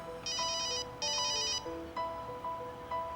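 A cell phone rings during a call test near a metal antenna, with repeated electronic ringtone bursts and melodic beeps in a clear rhythm, fairly faint and heard alone.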